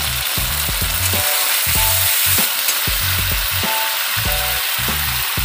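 Potatoes frying in a sautéed spice paste seasoned with salt and turmeric for aloo dum, a steady close sizzle with repeated spoon stirring and scraping strokes, no voices.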